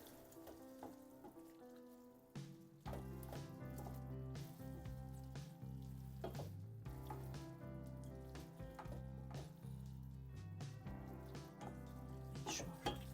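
Fusilli pasta in tuna sauce sizzles in a pan while being stirred, a steady close crackle broken by scraping and clacking stir strokes.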